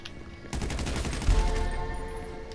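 Rapid automatic fire from a G36 rifle in a video game rattles out in a fast continuous burst, loud and close, with a heavier report partway through and a ringing tail as the shooting stops.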